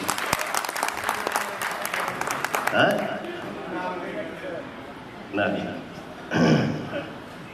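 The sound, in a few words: audience applause at stage show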